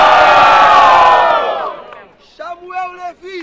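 A loud crowd at a rap battle erupts in cheering and shouting that fades over a couple of seconds, followed by a single voice calling out.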